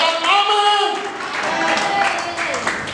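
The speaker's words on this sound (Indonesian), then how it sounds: "Kita beri tepuk tangan yang meriah" A church congregation at an Easter service claps together, a brief burst of hand claps blended with voices, with a speaker's voice carrying over the clapping.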